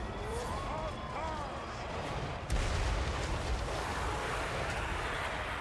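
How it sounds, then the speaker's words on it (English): Hell Cannons firing during a Total War: Warhammer 3 battle, a continuous roar of distant artillery and gunfire with a heavy boom about halfway through and dense battle noise throughout. "The Hell Cannons occasionally finding their mark."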